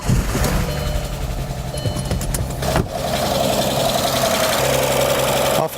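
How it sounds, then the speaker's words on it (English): A bi-turbo Audi engine runs just after a timing belt install, a loud, close, steady idle full of rapid ticking from lifters and clattering from the camshaft chain tensioner, with one brief sharper knock midway. "we have all sorts of lifter noise and camshaft chain tensioner noise, but that's normal because, you know, they're not filled with oil yet"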